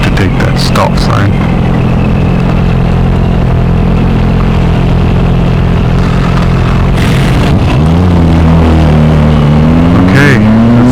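Suzuki V-Strom 1000XT motorcycle on a test ride, its engine droning steadily throughout with wind rush, then revving up and shifting as it pulls away from a stop near the end; a rider talks intermittently over it.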